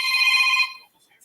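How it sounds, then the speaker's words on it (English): A telephone ringtone sounds once, a bright, loud electronic ring lasting about half a second and then cutting off into near silence. "He's a funny ass ringtone, ain't it?"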